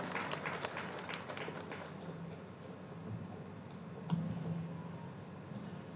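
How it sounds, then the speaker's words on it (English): A convocation audience claps for a speaker. The applause is crisp and fairly loud at first, then thins and fades to a quieter scattered patter with a few isolated claps toward the end. "A huge round of applause for Ms."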